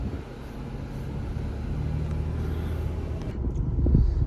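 A 2024 Ford Bronco Raptor drives steadily, a low, continuous road and engine rumble heard from inside the cabin, with the noise rising slightly toward the end.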